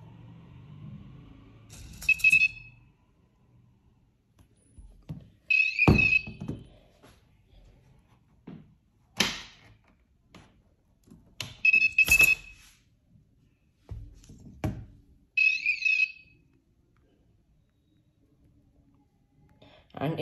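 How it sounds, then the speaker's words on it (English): A single small buzzer inside a 3D-printed device sounds several short beeping bursts at irregular intervals, some tonal chirps and alarm-like pulses, separated by clicks and handling noises at close range. "inside this I have just used one buzzer to make these all sounds"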